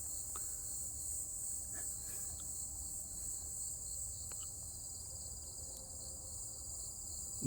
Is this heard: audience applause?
no